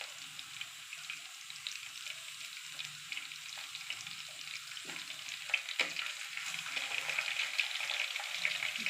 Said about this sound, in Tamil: இந்த மீன் மேக்கரை போட்டு நல்லா பரட்டலாம்